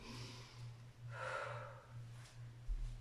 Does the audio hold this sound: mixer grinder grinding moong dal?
no